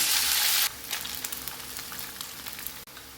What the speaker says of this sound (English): For the noodles, take about 2 tablespoons of oil and heat it well. Add in the boiled noodles.